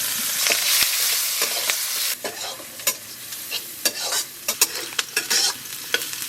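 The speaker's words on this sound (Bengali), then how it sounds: "পেঁয়াজটা ভালো করে ভাজু" Onions frying with a bay leaf in leftover fish-frying oil give a loud, close sizzle with a rush of hiss at first, then irregular scraping stir strokes against the pan.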